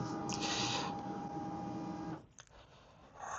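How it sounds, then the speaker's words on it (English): A Samsung Xpress M2070W printer warming up after power-on gives a steady, close mechanical whir with an underlying hum. It cuts off abruptly after about two seconds, followed by a few faint clicks, then a softer whir resumes. "you need to power on your printer and wait for warming up to be completed"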